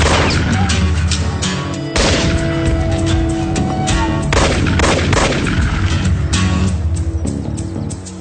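A dense, loud barrage of gunshots rings out, layered with heavy booms and crashes throughout in a continuous, chaotic exchange of fire.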